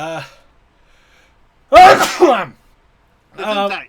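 A man sneezes once, a sharp explosive burst right up close, with brief speech before and after it.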